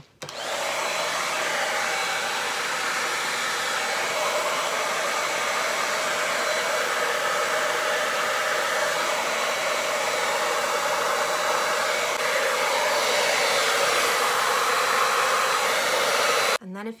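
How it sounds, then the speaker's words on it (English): A hair dryer blows steadily on curly hair, a loud continuous whoosh running unbroken for most of the clip before cutting off near the end. "you're gonna blow dry it"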